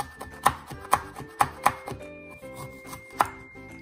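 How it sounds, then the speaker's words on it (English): Knife chopping galangal root and kaffir lime leaf for a Thai catfish laab salad: five sharp, close board strikes at uneven intervals over a steady hum, with no talking. "Finely cut galangal root into small dice and kaffalam leaf into"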